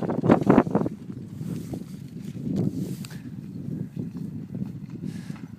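Trotting horses out on winter training, with muffled hoofbeats and scuffing passing fairly close under steady wind buffeting the microphone.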